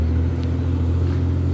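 A truck hauling topsoil on a toll road construction site rumbles steadily close by, its engine a continuous low drone with no voices over it.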